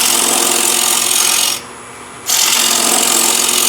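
A wood gouge pulled through wood in a pull cut for quick shaping, giving a steady dry rasping scrape that stops briefly mid-stroke and then resumes, close and fairly loud.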